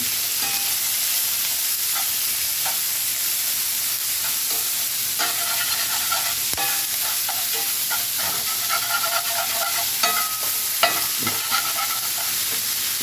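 Food in a pot scraped and stirred while a lentil beef pot roast cooks, with a constant loud sizzle and hiss and scattered scraping and clinking of a utensil against the pot, close and without talk.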